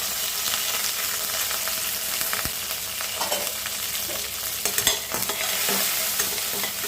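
Mustard seeds, urad dal, green chilli and curry leaves crackle and sizzle in hot ghee, a dense steady frying hiss with scattered pops and a few spoon scrapes, no talking.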